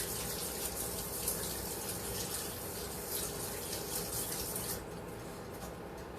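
Tap water runs steadily into a kitchen sink during hand washing after handling raw meat, a continuous close gush that drops to a softer flow near the end, with no talking.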